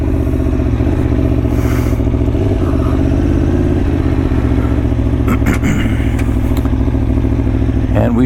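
A Ducati Tuono motorcycle engine runs loud and close, a steady low rumble with rattly clatter and a few sharper surges near the end.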